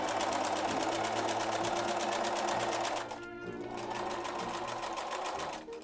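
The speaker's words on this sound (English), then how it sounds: "I followed the line of the pins as a guide for sewing" A sewing machine stitches darts on an Edwardian-style slip with a fast, even mechanical chatter heard up close, pausing briefly midway before running on again.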